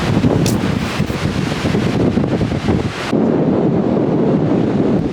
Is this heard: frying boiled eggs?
no